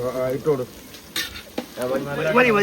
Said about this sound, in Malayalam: ഇപ്പം നമ്മൾ വെളിച്ചെണ്ണ ഒഴിച്ച് ഉള്ളി ഇട്ട് കൊടുത്തോണ്ടിരിക്കുകയാണ്